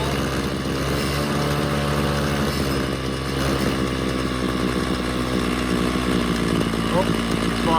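A Ryobi CS26 string trimmer's two-stroke engine runs loud and close with a raspy buzz, its pitch wavering as it bogs down, and a voice speaks over it.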